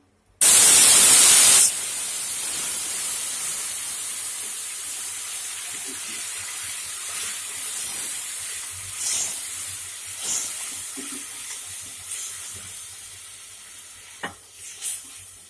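A sharp, loud burst of hissing as water hits roasted semolina in a hot pan for suji halwa, settling into a steady sizzle with faint stirring scrapes.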